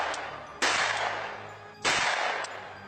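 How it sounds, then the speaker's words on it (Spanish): Two sharp, loud gunshot cracks about a second apart strike a wall, each followed by a short decaying echo. "3 tiros habían pegado contra la pared donde se escondía"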